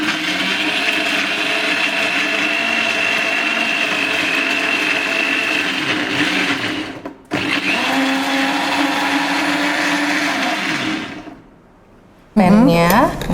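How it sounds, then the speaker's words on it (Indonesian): An electric blender grinds spices for cooking, a loud continuous whirring roar that halts briefly midway, resumes, then cuts off before a short burst of talk at the end. "Oke, sekarang kita langsung blender."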